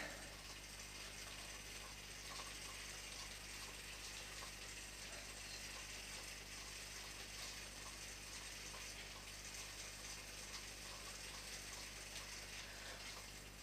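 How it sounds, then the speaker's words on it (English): A fishing reel winding line onto its spool: a faint, steady mechanical whir with fine ratcheting clicks running evenly and unbroken from start to finish. "The longer you reel, the less line is on the spool that you're reeling from, and the more line is on your fishing reel."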